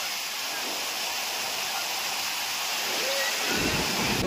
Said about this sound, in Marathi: गेल्या 48 तासापासून पाण्याचा विसर्ग खूप वाढला आहे